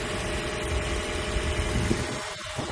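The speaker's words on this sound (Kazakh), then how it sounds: "Мотор енді тамаша істеп тұр." A 2015 Lexus ES300h Supreme with a 2.5-litre petrol hybrid engine idles, giving a steady, low, even hum with no clear changes over a few seconds.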